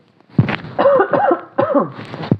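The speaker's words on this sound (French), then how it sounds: "excusez-moi, je vais tousser" A person nearby gives a few harsh, voiced coughs in quick succession, loud and close.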